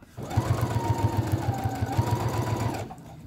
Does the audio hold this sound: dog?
no